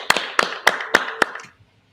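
Five sharp, evenly spaced hand claps from a studio audience, ringing out in a steady rhythm for about a second and a half before stopping, followed by near silence.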